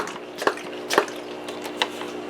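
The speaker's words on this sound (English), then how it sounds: "a few pumps, then I just gently spray it down" A hand pump sprayer gently mists water over soil-filled seed trays, giving soft bursts of spray about every half second amid a faint, steady hiss, quiet and close.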